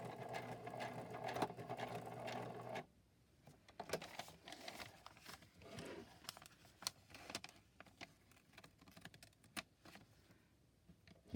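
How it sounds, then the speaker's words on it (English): A sewing machine stitching down embroidery, a steady close whirring run for about three seconds, then quieter intermittent clicks and fabric handling, no speech. "I'm stitching right down the embroidery."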